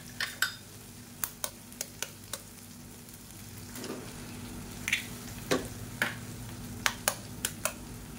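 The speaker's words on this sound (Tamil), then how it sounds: "2 முட்டையை உடச்சி ஊற்றிக்கலாம்" Two eggs go into a pan of softened, sizzling cauliflower masala pushed to one side, with a steady low sizzle, a series of sharp clicks and taps of shell and utensil, and brief splashes as the egg hits the oil.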